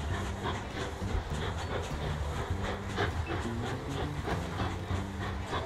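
A steam train engine in the Mashinky video game chugs steadily at a low, even level, with a repeating mechanical clatter and no speech.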